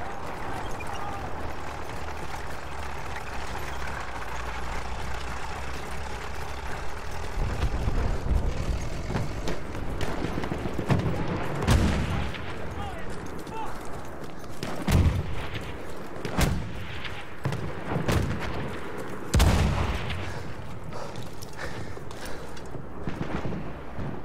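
A tank rumbles through a Battlefield 1 match while it comes under attack, a steady low engine drone broken by several sharp heavy blasts and impacts in the second half, some close and loud.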